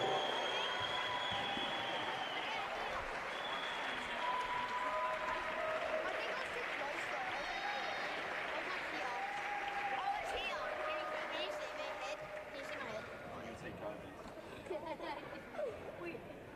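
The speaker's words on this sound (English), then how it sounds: "One more round of applause, please" Applause from the crowd at a BMX freestyle national championship, a sustained wash of clapping and chatter beneath an announcer's voice.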